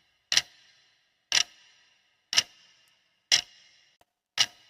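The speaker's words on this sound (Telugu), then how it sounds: "answer is గడియారము" A clock ticks five times at an even one-second pace, each tick a sharp, bright click standing alone against silence.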